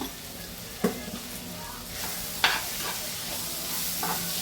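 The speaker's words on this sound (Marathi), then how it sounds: "छान परतून घ्यायचं." Green chickpeas sautéed and stirred in a pan with black garam masala and salt, giving a steady low sizzle broken by a few sharp scrapes and knocks of the spoon, close by, with no talking.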